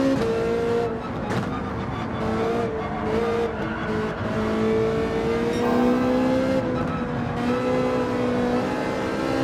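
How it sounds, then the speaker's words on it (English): High-revving race car engine in a racing video game, from the Porsche 911 Manufacturer's Cup racing, whining steadily with rising and falling pitch through gear changes, loud and continuous with faint tire noise and no talk. "Love how high you can rev this thing up."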